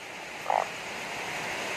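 A single short frog croak sounds once, fairly close, over a steady hiss of heavy rain.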